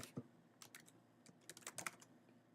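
Quiet typing on a computer keyboard, a few scattered soft key clicks and short bursts of taps, close up, with no one talking.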